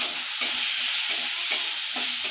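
Vegetable patties fry in oil over a medium flame, a constant close sizzle broken by a few light, regular spattering pops.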